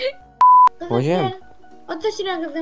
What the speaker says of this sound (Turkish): sanki o bildirim sesi bir alışveriş sesiydi bildirim sesiydi ama